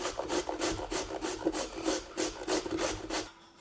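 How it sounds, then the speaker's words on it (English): Zucchini rubbed over a grater in quick, steady rasping strokes, about a dozen rhythmic passes close by, ending in a short quiet pause. "we're gonna grate this quickly down"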